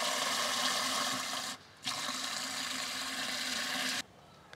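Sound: pouring water onto a table rose plant

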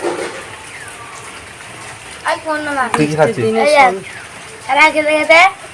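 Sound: light rain falling

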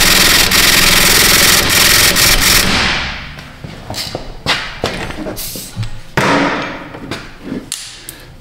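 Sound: impact wrench with extension on wheel bearing bolt

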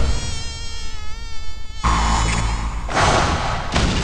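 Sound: mosquito buzzing in One-Punch Man anime episode

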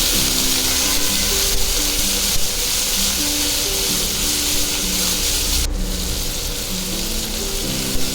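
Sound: chopped ivy gourd (tondli) added to pan, frying

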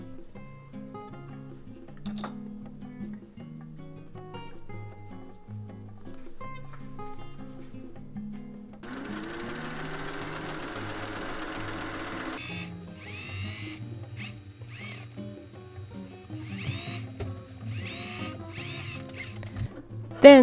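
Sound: sewing machine stitching beret hat seam

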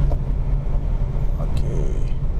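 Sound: Chevrolet Cobalt engine while shifting gears in manual mode

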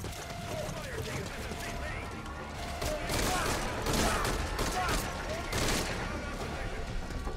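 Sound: gunfire in Metal Gear Solid V: Ground Zeroes video game

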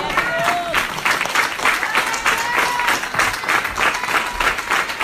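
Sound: congregation applause

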